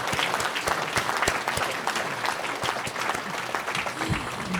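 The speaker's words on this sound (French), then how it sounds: "On peut une nouvelle fois, je pense, applaudir toute l'équipe municipale" Applause from the audience at a town council New Year ceremony in Nilvange, dense steady clapping from a crowd that carries on throughout, moderately loud.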